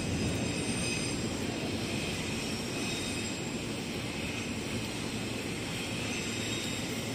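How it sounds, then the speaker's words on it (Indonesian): The Argo Parahyangan passenger train from Bandung to Gambir rushes straight through track 1 at Manggarai station, a loud continuous roar of wheels and engine that stays steady throughout with no talking. "Lagi melintas langsung kereta api Argo Parahyangan dari Bandung tujuan Gambir di jalur 1."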